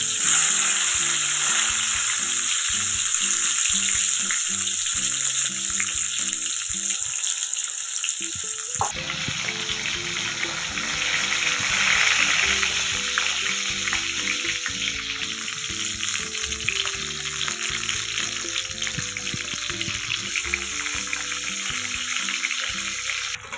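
Eggplant slices frying in hot oil make a continuous loud, close sizzle and crackle that runs throughout, briefly quieting and then returning.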